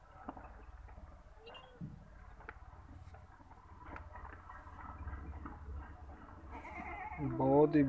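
A large, tall Beetal goat on a Punjab farm bleats close by near the end, following a stretch of low background noise and someone talking.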